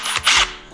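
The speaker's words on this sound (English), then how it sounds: "I will drill holes, 4 or 5 holes in this" A power drill bores holes into the grill of a custom side-by-side radio, a brief loud whining burst of drilling close by with no talking.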